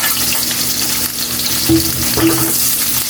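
Garlic, onion and ginger sauté in a hot pan as the base for octopus adobo, giving a steady close sizzle broken by two brief metallic scrapes near the end.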